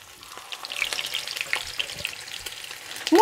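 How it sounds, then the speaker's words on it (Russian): Zrazy, stuffed meat patties, frying in a hot pan, giving a steady close sizzle with crackling pops and a few scraping stirs, rising louder at the end. "Мы начинаем жарить наши зразы."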